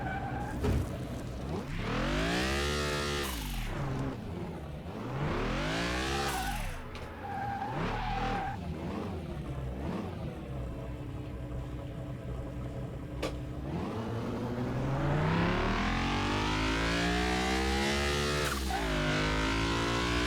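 Jaguar XJ220 engine drifting in Car Mechanic Simulator 2021, repeated rising and falling revs with sweeping pitch, loud and close, easing into a long sustained high note near the end.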